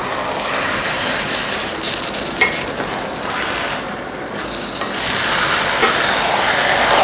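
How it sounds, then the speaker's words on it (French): Cooked couscous and vegetables are stirred together in a pot, a continuous loud, rough scraping and rustling that swells toward the end, with no talking. "Et puis on va mélanger le tout ensemble."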